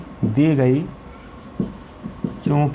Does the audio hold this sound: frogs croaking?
no